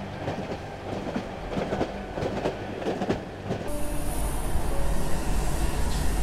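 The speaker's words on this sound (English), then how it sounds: "Are we going back home on the metro?" A metro train in the video game Cry of Fear rolls along with rhythmic clacking from the wheels, then the rumble swells louder and a faint high whine joins in.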